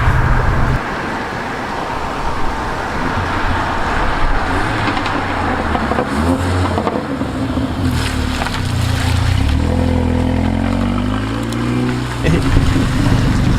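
Engine of a Mercedes CLA45 AMG running steadily while driving in comfort mode, a loud continuous drone with road and wind noise and shifting pitch as the car gains speed.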